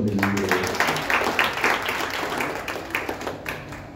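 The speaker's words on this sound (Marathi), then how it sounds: "टाळ्या वाजवून अभिनंदन करूया" An audience at a community organisation meeting claps in applause, a dense, fairly loud patter of many hands that continues steadily and tapers slightly, with no speech over it.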